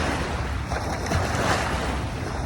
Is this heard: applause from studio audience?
no